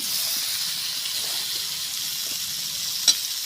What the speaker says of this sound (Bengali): এবার আমি এই সেদ্ধ করে রাখা এঁচোড় আর আলুটা দিয়ে দেবো।